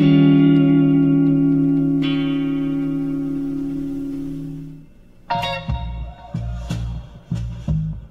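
A sustained electric guitar chord rings out with a wavering vibrato and fades, followed by a few plucked, effected notes.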